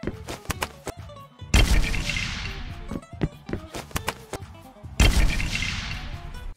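Explosion sound effects in a Lego brick animation: two loud, sudden booming blasts with long crashing decays, surrounded by sharp cracking and snapping hits of breaking effects.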